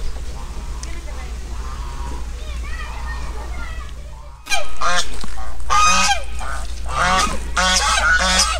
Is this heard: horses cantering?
no